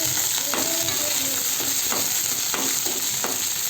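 Ginger, garlic and green chilies frying in oil in a pan, a loud continuous sizzle broken by regular scraping stirs of a spatula, close up, with no voices.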